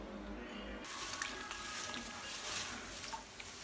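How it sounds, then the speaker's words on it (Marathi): Water runs steadily from a tap in a faint, continuous splash as raw chicken is washed. "हे मस्त असं धुवून घ्यायचं चिकन"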